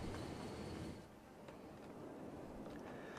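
A train on a rail line in the city-building game Cities: Skylines rumbles steadily with a low rolling hum and faint clacks, a moderate continuous rail noise.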